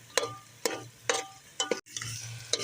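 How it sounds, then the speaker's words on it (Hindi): Chicken is stirred and fried in masala in a pan, with repeated scraping strokes and soft sizzling between them, heard close and alone. "अब हम इसमें चिकन भून लेंगे।"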